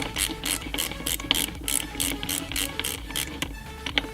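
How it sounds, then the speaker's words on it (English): A ratchet wrench loosening a part on an MBK 51v engine during disassembly, a close, loud run of quick regular clicking strokes that continue steadily throughout with no voices. "you use a wrench to put some leverage, loosen it up"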